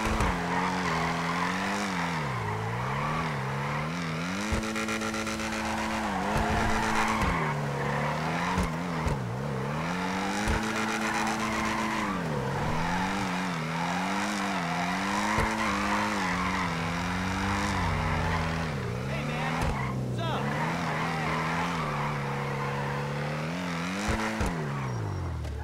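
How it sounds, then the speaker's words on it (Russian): A car drifting in the GTA 5 video game with a drift mod: a sustained, loud engine revving up and down, mixed with continuous screeching tire squeal throughout, with no talking. "Преимущество этого мода в том, что вы можете включить дрифт в любое время"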